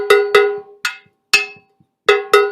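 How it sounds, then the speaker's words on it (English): A cowbell is struck six times in an uneven rhythm, each hit loud, close and ringing briefly before the next, with no voices. "I could play it on my cowbell if I wanted."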